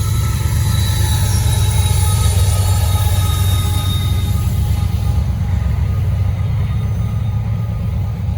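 Norfolk Southern freight train with a DPU locomotive rolling past at good speed in Gaffney, South Carolina, a continuous loud rumble of railcars with faint wheel squeal, steady throughout.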